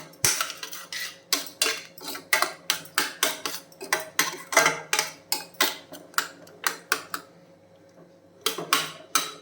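A spoon scraping and clinking against a metal pot while stirring a salted banana and buttermilk curry mixture, in a rapid, regular rhythm of strokes, close by, pausing briefly before resuming.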